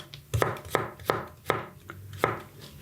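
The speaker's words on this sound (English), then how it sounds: "And then you want to thinly slice, but like kind of long." A knife thinly slicing squash lengthwise on a cutting board, about six distinct crisp chops at a slow, fairly even pace, close and clear with nothing else heard.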